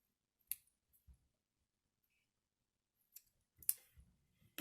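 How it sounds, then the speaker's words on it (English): A few sharp, quiet snips of scissors trimming cotton wick, spaced apart against near silence, with two clustered together near the end. "I'm actually going to take my scissors and trim this in half"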